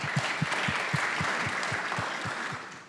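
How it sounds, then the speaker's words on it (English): Audience applause from a crowd at a political gathering in Washington, a steady continuous roar of clapping with regular low thumps under it, fairly loud and sustained throughout. "we appreciate the applause for her and not boos for me"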